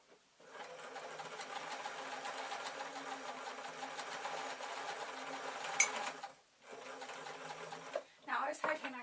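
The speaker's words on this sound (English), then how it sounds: "I'm literally going to sew the base on to the material so that it stands up." A sewing machine stitches a felt base onto a red felt bag with a steady close whirring run of rapid needle strokes, stops briefly, then gives a couple of shorter bursts.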